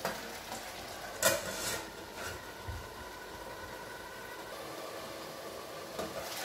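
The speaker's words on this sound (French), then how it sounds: "Vous voyez comment ça mijote." Onions simmering quietly in a pan while beef kidneys are cooked, a soft steady sizzle and bubble with a few light clinks of a utensil against the pan.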